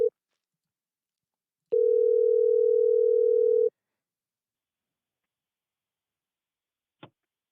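A telephone dial tone on a radio call-in show as a caller is rung back: a short blip, then a steady two-second hum, a pause, and a single faint click.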